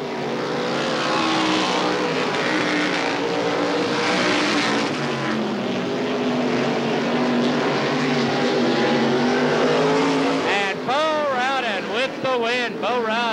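Race cars roar past at Cowtown Speedway in a 1989 oval-track heat, engines droning loudly and continuously with rising and falling pitch as the field sweeps through the turns, while an announcer calls the action over a crowd.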